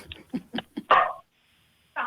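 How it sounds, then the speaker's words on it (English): A dog barks nearby in a home, four short sharp yips followed by a longer, louder bark, then a pause before another bark starts. "there goes the dog"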